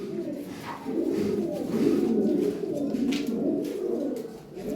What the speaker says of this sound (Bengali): অনেক সুন্দর কবুতর অ্যাক্টিভ কবুতর